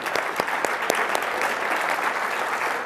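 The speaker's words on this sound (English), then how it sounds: "Let's give him a nice round of applause." An audience at a speaker's talk gives a round of applause, steady dense clapping with a few louder individual claps, lasting a few seconds without speech.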